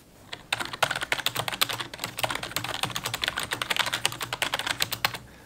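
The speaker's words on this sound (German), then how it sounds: "das typische Geräusch beim Tippen kennt ihr ja." Rapid, irregular keystrokes on a rubber-dome computer keyboard, typed steadily and close up for about five seconds with no talking.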